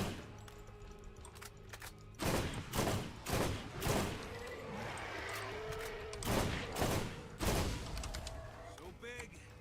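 SMG fire in Borderlands, heard as several loud, spaced bursts of rapid shots mixed with game effects, the louder bursts clustered early and again near the end.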